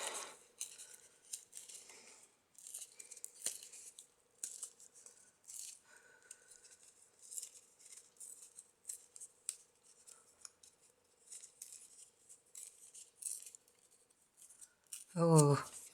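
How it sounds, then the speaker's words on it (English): Paper bits ripped by hand from a butterfly-inspired folio journal pocket: short, dry tearing and snipping bursts scattered across a quiet background hum, ending in a louder burst with a brief voice over it. "I just want to rip these bits"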